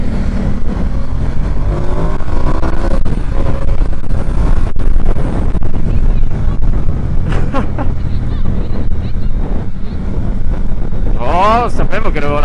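A Ducati Diavel 1260 motorcycle engine roars loud and close while riding, with heavy wind buffeting, shifting engine pitch and a sharp rev sweep near the end; a rider's voice comes through at times.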